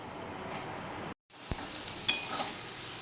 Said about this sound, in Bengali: এই দেখো আলুর দমের জন্য এখন পেঁয়াজটা ভাজতে নিয়ে নিয়েছি